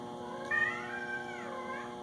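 A cat lets out one drawn-out meow that rises and bends over about a second and a half, moderately close over a steady low hum.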